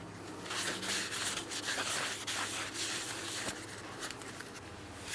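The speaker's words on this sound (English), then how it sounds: "Use a wire brush and some parts cleaner if necessary." A wire brush scrubs the hub mounting surface of a 2003-2007 Cadillac CTS during front wheel bearing and hub replacement. Close, rough back-and-forth rasping comes in a steady series of strokes, with no voice.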